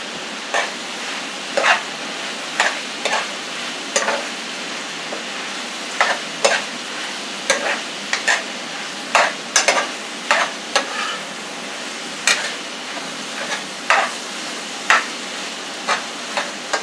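Peppers, onions and garlic fry steadily in a pan with a constant sizzle, punctuated by repeated sharp clicks and scrapes of stirring at irregular intervals, with no voices.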